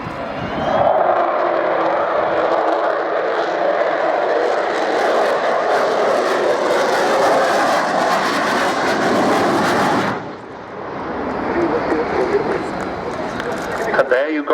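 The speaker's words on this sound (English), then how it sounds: "Bit of a howl, a Vulcan howl." An Avro Vulcan bomber flies at a UK naval air show, with a loud, sustained jet engine roar and howl that holds steady, then briefly dips and rises again, under constant crowd and commentary noise.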